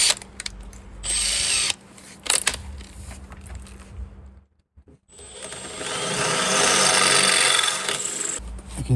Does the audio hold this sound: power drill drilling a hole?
yes